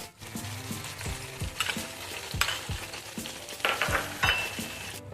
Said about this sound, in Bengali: মাছগুলো এই সর্ষে বাটার সঙ্গে দুবার ওলট পালট করে নিয়েছি